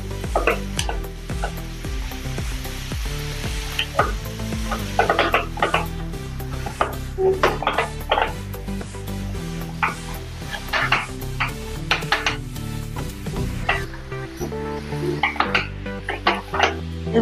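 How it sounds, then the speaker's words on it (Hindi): Ground peas, green chickpeas and spinach being stirred together in a bowl for hara bhara kabab, with repeated utensil clinks and scraping against the bowl over a steady musical backing, no talk. "मटर और हरा चना और पालक जो हमने कटर में बारीक किया था वो इसमें डाल देंगे। अच्छे से मिक्स कर लेंगे"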